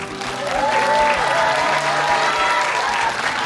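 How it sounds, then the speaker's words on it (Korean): An audience claps steadily before a youth a cappella group from an elementary school takes the stage at a national competition, a dense, sustained round of applause with a faint tonal hum running underneath. "큰 박수 부탁드리겠습니다"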